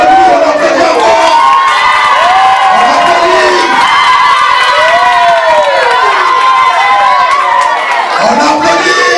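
A crowd at a party installation and investiture ceremony in Kinshasa, DRC, cheers and shouts loudly and continuously, with rising whoops and excited voices layered over one another, close and dense throughout.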